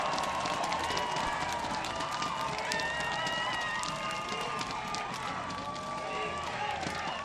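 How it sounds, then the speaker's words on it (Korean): A large crowd at a Korean presidential election rally on a Daejeon street fills the air with dense, continuous applause and cheering, loud and unbroken throughout. "뜨거운 박수 부탁드리겠습니다."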